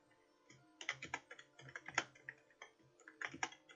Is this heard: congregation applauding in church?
no